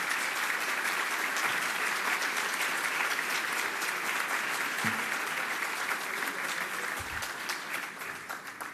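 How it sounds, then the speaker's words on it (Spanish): A crowd applauds at a business event in Mérida, loud sustained clapping from many hands that continues for several seconds before tapering off at the end. "Un aplauso para todos ellos, por favor."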